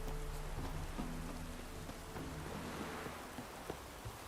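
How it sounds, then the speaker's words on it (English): Steady rain falls in The Witcher 3, a dense even hiss filling the background with faint low tones beneath and an occasional soft tap, continuous throughout. "Looks like rain."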